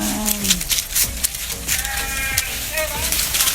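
Goats bleating outdoors on a farm, several short wavering cries spaced through the clip over a busy background with faint voices.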